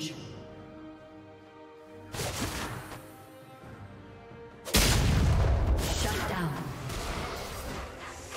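Turret destruction in League of Legends: a heavy booming crash bursts in loudly partway through, followed by sustained rumbling debris and game effects, with earlier layered in-game sounds building beforehand.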